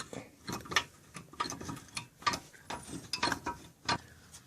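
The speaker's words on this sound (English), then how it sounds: "you can take something a little smaller like this shortened screwdriver and continue working it like that" A shortened screwdriver works a Mercedes SLK or CLK brake caliper loose from the rotor, giving irregular close metallic clicks and scraping taps in uneven bursts, fairly quiet.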